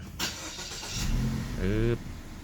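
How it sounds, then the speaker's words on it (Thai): Mazda car engine starting after a battery replacement: a starter whir cranks briefly, then the engine catches with a rising rev and settles into a steady idle, close and clear. "เดี๋ยวเรามาจะลองมาสตาร์ทดูนะครับ"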